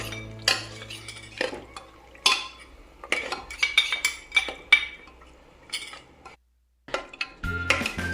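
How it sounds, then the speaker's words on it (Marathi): Garlic-ginger paste being stirred into mutton in a pressure cooker, a metal spoon scraping and clanking against the pot in quick irregular bursts with short pauses, close and clear with no voices. "आता लसूण आणि अद्रकची पेस्ट टाकायची आहे आणि चांगलं मिक्स करायचं आहे याला पण"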